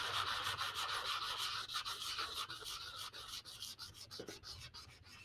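Sandpaper rubs back and forth over an epoxy-coated tumbler in a steady, close scratching rasp that continues without a break and with no voices.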